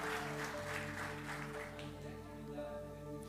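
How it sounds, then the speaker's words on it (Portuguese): A congregation claps for its elderly members: a soft, steady spread of applause that fades gradually, with a low sustained musical drone underneath. "Aplaude a terceira idade"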